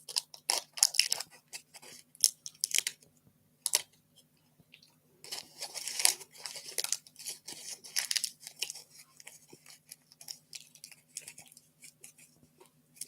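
Spearmint chew sweet being unwrapped and chewed up close, sharp crinkly tearing and rustling of the wrapper in irregular bursts, then moist chomping and crunching with pauses, no talking.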